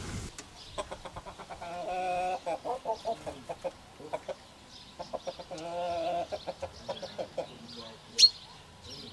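A rooster in Sinop, Turkey, one that also lays eggs, gives a series of close, rhythmic clucks in quick bursts, with a few longer calls and a sharp squawk near the end.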